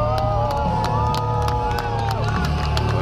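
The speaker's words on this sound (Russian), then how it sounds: "эти аплодисменты звучат сейчас совсем не зря" A large audience at a comic con event cheers, whoops and applauds in a dense, continuous wall of crowd noise. Scattered shouts and claps stand out along the way.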